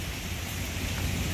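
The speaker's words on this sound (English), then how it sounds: "I'm getting a little rain." Rain falling outdoors on New Year's Eve, a loud, steady hiss of drops hitting surfaces, continuous and close with no voices.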